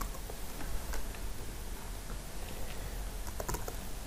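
Typing on a computer keyboard at a command prompt, quick irregular key clicks in short bursts, faint and close against a quiet background, no talking.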